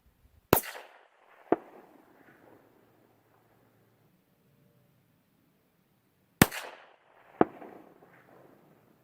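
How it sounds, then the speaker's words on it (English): Real-life gunfire with bullets snapping past: two pairs of sharp, loud cracks several seconds apart, each crack followed by a softer report and a short rolling echo, with near silence in between. "this is what getting shot at sounds like in real life"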